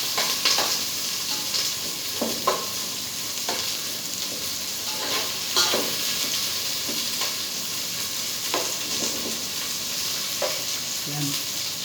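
Squid and onions sizzle loudly in a pan for adobo as a spoon stirs them, with scraping knocks at irregular intervals over the constant close frying hiss.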